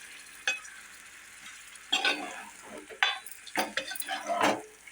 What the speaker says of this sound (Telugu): ఒక్క ముక్క ఇలా మసాలా పట్టేటట్టు తిరిగేస్తే సరిపోతుంది.